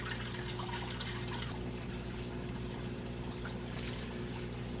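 Bottled water poured from a roughly two-gallon jug into an alligator snapping turtle enclosure, a steady, faint splashing trickle running continuously over a low background hum.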